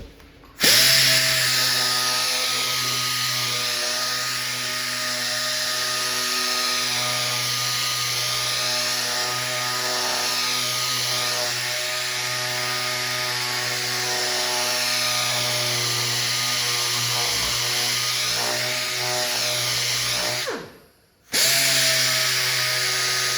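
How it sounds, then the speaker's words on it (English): Power sander rounding over the edges of several clamped wooden boards for a cocktail arcade table, a loud steady high whine that runs continuously, briefly stops near the end, then starts again. "We're just going to take my sander"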